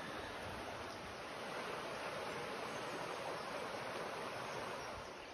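Steady rushing of a flowing stream near thermal springs at Baños de Urquizar, a constant close wash of water with no speech.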